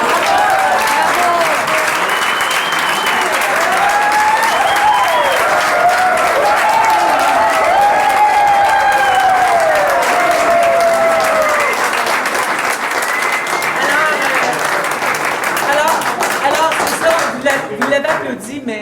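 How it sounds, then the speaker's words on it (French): Crowd at a municipal speech event applauds and cheers for a long stretch, sustained loud clapping mixed with shouts and excited voices throughout, some calls rising above the ovation. "Vous l'avez applaudi, mais pas assez."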